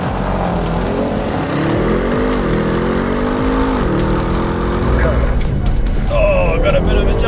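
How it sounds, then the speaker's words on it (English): Audi RS6 and Mercedes E63S AMG launch from a standing start on a quarter-mile strip, engines roaring loud and close with rising revs and some tire chatter, while a voice talks excitedly over the noise. "Yes, that was a good launch from the Audi."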